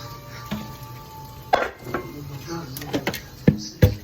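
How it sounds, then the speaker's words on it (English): Dishwashing in a home kitchen: scattered clinks and knocks of dishes, pots and cutlery, sharp irregular clatters against a quiet background, with speech nearby. "I'm gonna try to wash these dishes up real quick"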